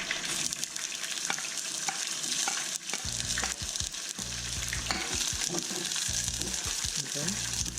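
Garlic cloves and onions hit a pan of hot oil and fry with a continuous sizzle. The sound grows fuller partway through, with scattered clicks and scrapes as the pan is worked.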